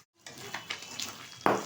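Katla fish fat frying in hot oil in a pan, soft sizzling with a few light scrapes of stirring and a sharper clatter at the end.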